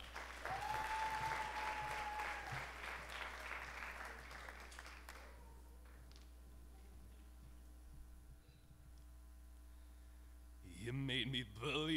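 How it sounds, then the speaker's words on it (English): A school audience applauds a Teen Idol singer at a high school talent show. The dense clapping is loud for about five seconds, then dies away into a steady electrical hum, and a brief louder burst comes at the end. "Please give a round of applause for Tyler."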